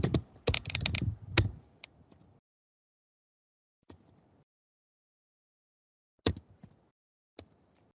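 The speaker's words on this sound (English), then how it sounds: "I am typing like this." Quick bursts of computer keyboard typing, a dense flurry of clicking keys at first, then scattered isolated keystrokes separated by silent gaps.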